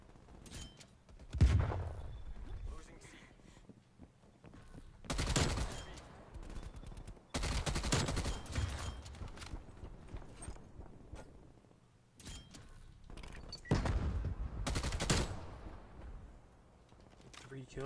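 KSP 45 submachine gun fire in a Call of Duty-style online shooter match, with several bursts of rapid automatic shots separated by short pauses under game ambience, fairly faint overall.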